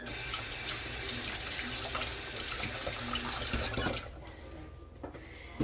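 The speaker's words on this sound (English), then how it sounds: "I'm going to wash my hands real quick." Kitchen tap water runs steadily into a sink during handwashing, a continuous close splashing rush that cuts off near the end and leaves quieter room sound.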